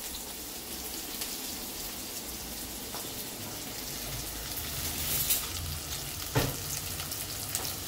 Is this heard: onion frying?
yes